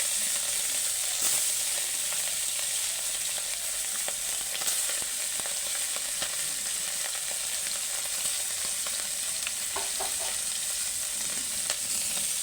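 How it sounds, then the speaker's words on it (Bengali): Small chuno fish, including tangra, fry in hot oil in a wok with a steady, close hiss and sizzle and occasional crackles and pops, continuing throughout with no talking. "কড়াই তেল দিয়ে দিয়েছি এবার আমি চুনো মাছগুলো ভেজে নেব"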